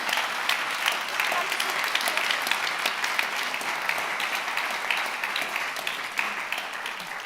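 Loud, sustained audience applause for a minister at a peace dialogue event in Berlin, dense and continuous clapping filling the room with no break.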